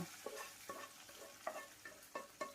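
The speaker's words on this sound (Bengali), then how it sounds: "এখন এই বাগারটা মাংসের মধ্যে ঢেলে দেব" Fried onion and whole cumin tempering poured and stirred into mutton for a Bengali mutton kosha, giving soft sizzling with several short stirring scrapes in a loose rhythm, close by and with no talking.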